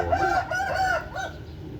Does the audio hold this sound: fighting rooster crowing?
yes